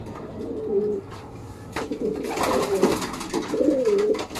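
Soft, low coos from racing pigeons repeat a few times in a rolling rhythm, close by, with faint background rustle and no talking.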